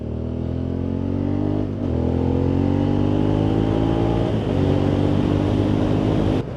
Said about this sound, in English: I love the way this bike accelerates though.